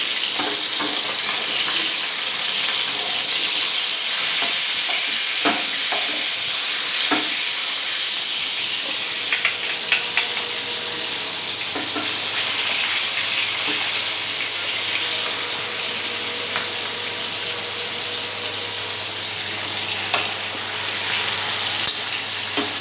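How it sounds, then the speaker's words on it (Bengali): Fish fries in oil in a home kitchen pan with a dense, hissing sizzle that runs steadily throughout, broken by occasional spatters and clinks, close and without voices. "মাছগুলো আগে ভেজে নিলাম।"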